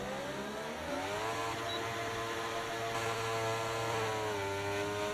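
Formula race cars in an F1 video game at the Azerbaijan Grand Prix scream with high-revving engines, pitch climbing and shifting steadily, loud and sustained without speech.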